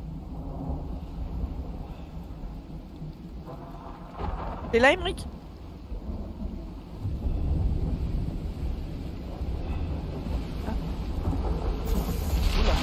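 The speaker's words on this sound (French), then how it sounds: "Tempête d'éclairs et qui dans une forêt, ça fait un sacré bazar." Thunder rumbles and crackles through a night lightning storm in a forest in the survival game Icarus, with wind and rain noise throughout and a sharp strike midway, while someone speaks briefly.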